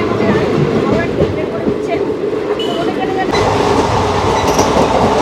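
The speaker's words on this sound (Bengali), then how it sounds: "ট্রেন ঢুকে গেছে, আগে উঠি তারপর বাকি কথা বলছি।" Arrival of the 13113 Hazarduari Express at a busy Kolkata station platform: a loud, continuous rumble of rolling coaches with rhythmic rail clatter, crowd noise and voices mixed in throughout.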